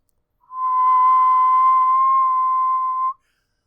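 One sustained whistled note, clear and steady, held for almost three seconds before stopping abruptly, with silence on either side.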